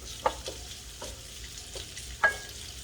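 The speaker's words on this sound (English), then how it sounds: "While the meat's still cooking," Meat frying in oil with ginger, garlic and shallot in a pan for lu rou fan, a steady close sizzle broken by occasional louder pops and stirring scrapes.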